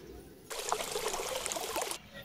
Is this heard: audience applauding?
no